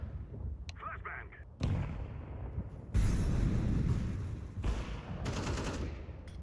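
A flashbang grenade goes off in the Counter-Strike 2 video game, a sharp burst followed by a loud blast, set amid in-game gunfire and other explosions.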